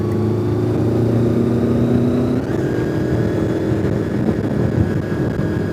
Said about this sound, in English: his exhaust does sound pretty good